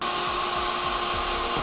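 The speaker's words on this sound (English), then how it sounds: "we'll drill ourselves a pilot hole, making sure we only go through the first layer of metal" A power drill whines steadily close by as it bores a pilot hole through the first layer of metal on a 2009 vehicle being fitted with air helper springs, loud and continuous with no voices.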